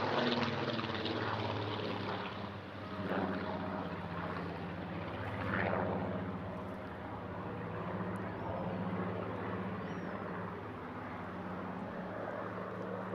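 A late-mark Spitfire powered by a 2,000 horsepower Griffon 65 or 66 engine flies at an airshow in Eastbourne, giving a sustained, rumbling propeller drone with a gently rising and falling level, distant and without speech.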